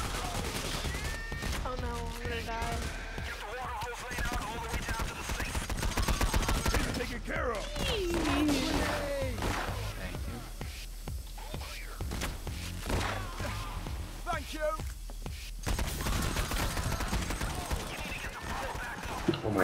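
Gunfire in the Payday heist shooter, mixed with chaotic game noise and overlapping voices; bursts of shots and impacts run through the dense soundscape alongside speech.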